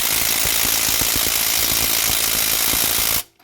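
Side impact gun on high power hammering at stubborn 18 mm bolts, a loud, rapid continuous rattling close by that runs for about three seconds before cutting off abruptly.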